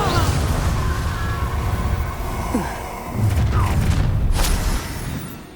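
Confringo blasting spell in Hogwarts Legacy lands as a dense, roaring explosion, a sustained booming rumble with a brief dip and a renewed surge of blasting debris, set among thuds and crashes of combat.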